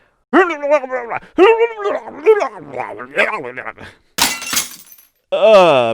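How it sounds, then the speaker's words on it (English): A gift shatters on a floor in a sharp, broadband crash of breaking glass that lasts under a second, set among loud voices and a barking dog, with more talk following. "my brother's gift shattered on the floor next to him"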